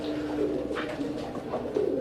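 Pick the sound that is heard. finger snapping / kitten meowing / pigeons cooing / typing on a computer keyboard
pigeons cooing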